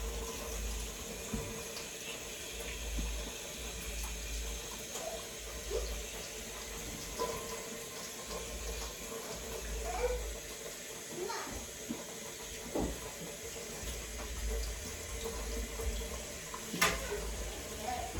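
A tap runs steadily while an aloe vera leaf is washed under it, a soft continuous hiss of water with faint splashes and occasional handling sounds, close but fairly quiet.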